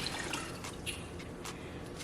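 Water is poured into a cooking pot of peas for a Jamaican stew, making a soft, continuous, trickling splash with faint drips throughout.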